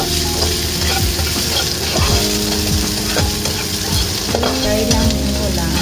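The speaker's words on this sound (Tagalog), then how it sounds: "Ibigisa din lang siya hanggang sa maging color brown yung white onions na." White onions sautéing in a pan for a sardine dish with garlic and chili, giving a steady sizzle with the repeated scrape and clatter of a utensil stirring, close and continuous with no talk.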